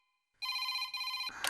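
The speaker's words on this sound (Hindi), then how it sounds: "दरअसल फोन भी अभी बजना था क्या?" A telephone rings indoors with a steady electronic trill that starts abruptly after a short silence, loud and close, then cuts into another noise at the end.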